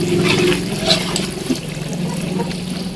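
Water poured into a cooking pot while making pancit, a steady liquid trickle and splash running throughout at close range with kitchen background noise.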